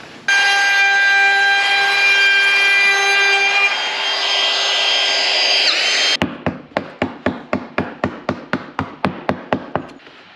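A router fitted with a slot cutter whines loudly and steadily while test-cutting a piece of 15mm lightweight plywood, then falls silent and is followed by a run of about fourteen sharp, evenly spaced taps.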